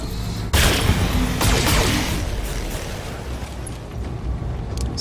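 Weapons fire from a mech in Battletech, a sudden loud blast followed by a second burst and a long rumbling, crackling decay.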